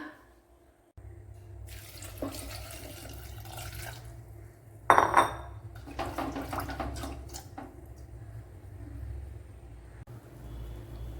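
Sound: water poured into cooking pot

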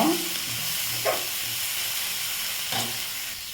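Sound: curry leaves and coriander sautéing in oil

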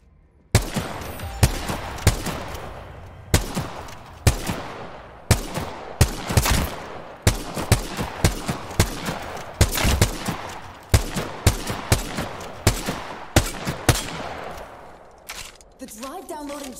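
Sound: gunfire in a video game

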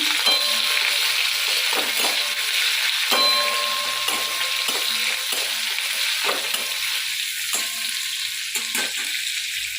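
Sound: chopped onions frying with cumin and dried chilli in a wok

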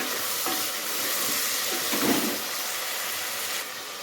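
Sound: tomatoes sautéing in a pan

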